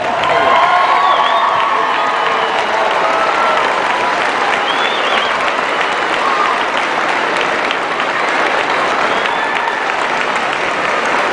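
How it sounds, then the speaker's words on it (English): At a varsity girls' basketball game, a gym crowd stands and gives loud, sustained applause. Cheers and a few whoops and shouts rise through the clapping, which carries on evenly throughout. "Let's all stand and give these girls and coaches a round of applause."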